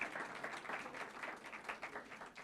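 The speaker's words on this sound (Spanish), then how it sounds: "Damos un aplauso al Señor y damos un aplauso por la vida de Gedeón." A church congregation claps together during a service, a dense, steady wash of many hands applauding at moderate distance, fairly soft and continuous throughout.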